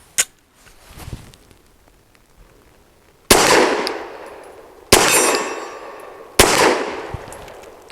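An older ETS polymer pistol magazine inserted into and dropping out of a Saricam S-19 pistol, with a few faint knocks followed by three sharp, loud clangs, each ringing briefly before fading, and no talking.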